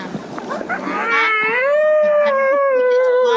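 A high, tonal whale-like call rises and holds as a long sustained wail with harmonics, preceded by scattered softer sounds; it is loud and clear, presented as a baby whale swimming.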